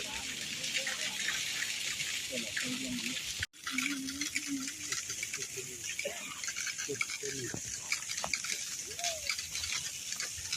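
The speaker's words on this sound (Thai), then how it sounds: "น้ำยังออกแรงๆ" Water gushes in a steady flow from a DC pump powered by a solar-cell controller box. The rushing sound stays faint, and a person talks over much of it.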